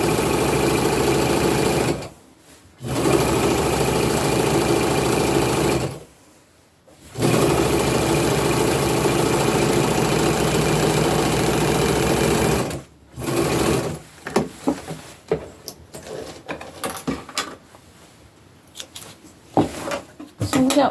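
Sewing machine zigzag stitching fabric for an upcycled tunic, loud buzzing runs of several seconds broken by short pauses, then faster stop-start bursts near the end.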